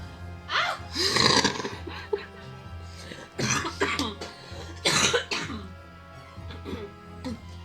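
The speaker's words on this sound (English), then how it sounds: "I always have a non-contagious, don't worry, I'm not gonna kill you, cough that sticks around after games." Several harsh coughs come in separate bursts, close to the microphone, with throat clearing between them.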